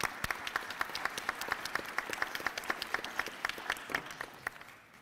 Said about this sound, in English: let's begin by offering a round of applause to this amazing group of people who have supported our graduates